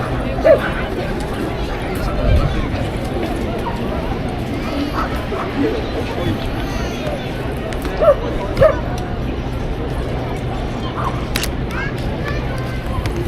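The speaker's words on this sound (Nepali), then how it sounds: "यत्रो धेरै कुकुर कति कराउँथ्यो यार" Several dogs bark and yip in short scattered bursts on a street in Japan, set against steady traffic-like background noise, with the louder barks standing out now and then.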